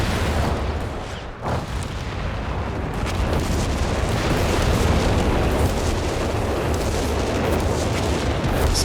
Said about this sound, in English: dropping in the zeroing artillery up here.